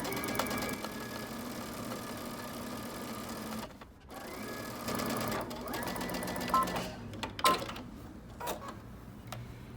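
A sewing machine runs in steady bursts, stitching along a folded, pressed cuff, with a brief pause near the middle and a few quick stops and clicks toward the end.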